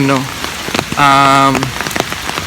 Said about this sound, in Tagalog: time na tag-ulan na talaga guys